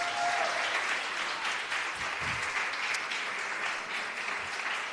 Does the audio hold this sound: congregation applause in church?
yes